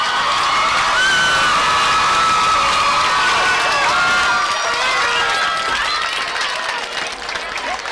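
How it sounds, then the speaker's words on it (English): Graduates at a 2004 graduation ceremony applaud their families, friends and teachers, a loud dense crowd of clapping mixed with cheers and whoops throughout, tapering slightly at the end. "I'd like you to applaud your family, friends, and teachers"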